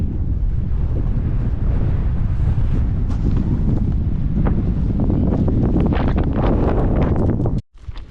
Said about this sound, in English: Quite a bit windier on this side of the mountain